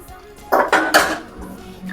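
A lid is set on a clay cooking pot of simmering fish curry, producing a few sharp clattering clinks in quick succession, close and fairly loud, then quiet.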